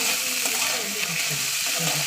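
Chickpeas fry in a home kitchen pan, giving a steady close sizzle that runs through the whole clip, with faint scraping or stirring sounds mixed in.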